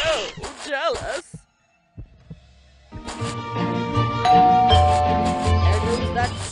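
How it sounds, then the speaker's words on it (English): A school bell rings in Scary Teacher 3D, a bright, sustained chiming ring that swells after a short stretch of voice and a brief silence. "There goes that stupid bell again."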